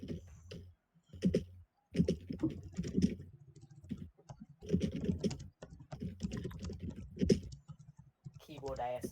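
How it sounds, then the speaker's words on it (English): Computer keyboard typing clatters in quick bursts of clicks and clacks during a tabletop role-playing session, mixed with people talking over it throughout. "Keyboard ASMR, love it."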